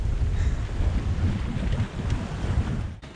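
Steady wind rush and water wash around a cruising sailing yacht running under spinnaker on an offshore Caribbean-to-USA passage, a loud, continuous low roar with no voices.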